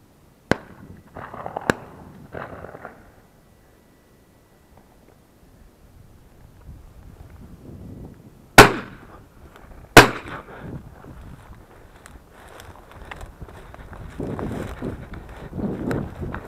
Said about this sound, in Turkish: İkinciyi de vurduk.